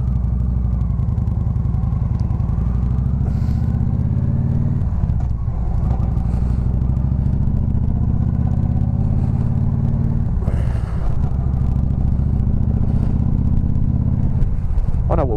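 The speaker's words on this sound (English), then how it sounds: "I am actually here, sitting in traffic." Steady low engine rumble and idling vehicle noise while sitting in a queue of road traffic, a continuous close drone with slight shifts in pitch and no talking.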